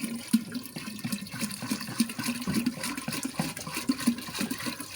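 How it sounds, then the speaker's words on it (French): Sea water poured into a container during a purification bath ritual, a steady close splashing gush with a few irregular surges, and no talking. "verser l'eau de mer."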